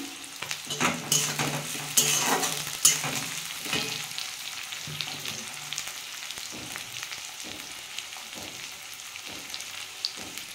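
Onions and chopped garlic fry in a pan for radish greens, with a crackling sizzle and repeated scraping stirs that are busiest early and settle into a lighter, steady fry.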